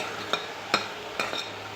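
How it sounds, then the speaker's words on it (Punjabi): Onions browning in a pan with salt, chili, turmeric and masala, a faint steady sizzle with a few soft stirring clicks spaced through the short stretch. "ਇਹ ਮੈਂ ਪਿਆਜ਼ ਭੁੰਨ ਰਹੀ ਹਾਂ"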